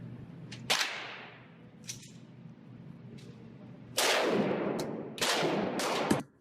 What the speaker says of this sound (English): his recoil management was actually good, but the gun blew up